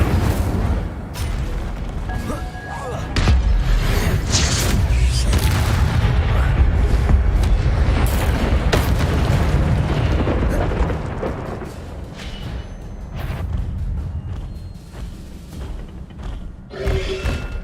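Accio and Incendio spell effects in the video game Hogwarts Legacy during a fight with guards, with dense booming blasts, thuds and fiery bursts layered over game music, loud and continuous throughout.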